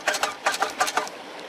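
A small pull-start engine on a gold-prospecting highbanker gets about six quick, rhythmic cord yanks, each a short rattling whir, but it never catches or keeps running. Nearby and moderately loud.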